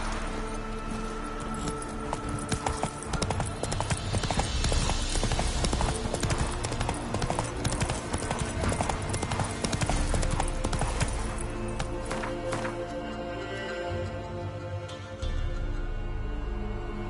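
Roach the horse in The Witcher 3 trots along with steady, rhythmic hoof clip-clops for the whole stretch, mid-distance, with a brief whinny-like texture and game ambience behind; no talk.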